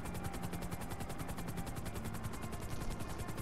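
Helicopter flying in GTA 5 on the way to Sandy Shores, a steady loud rotor chop with fast regular blade pulses and continuous turbine whine throughout, no voices.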